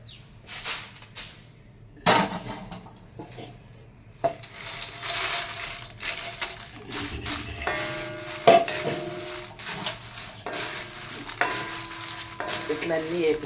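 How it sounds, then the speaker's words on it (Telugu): Five kilograms of red chillies are dry-roasted in a pan, with a spoon scraping and stirring in quiet, uneven bursts over a faint background crackle. "మిరపకాయలు వేయించానండి 5 కేజీలు"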